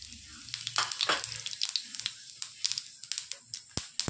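Cumin seeds crackle and sizzle in about two ladles of hot oil in a pan, a close, steady hiss dotted with sharp pops and spits that go on throughout, with no talking.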